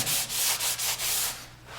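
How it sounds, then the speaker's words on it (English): Close, rhythmic rasping strokes of a soft sanding sponge rubbing a painted door, about six back-and-forth passes with a low hum underneath. "We're going to take a soft sanding sponge and just gently sand"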